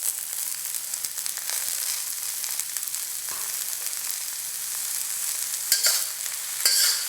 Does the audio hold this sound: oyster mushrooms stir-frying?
yes